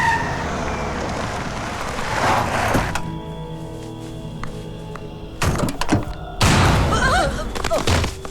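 A car braking and skidding to a stop: a rumbling engine and tire noise builds, then gives way to a sustained tonal squeal, followed by sharp thuds and clatter near the end.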